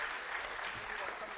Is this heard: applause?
yes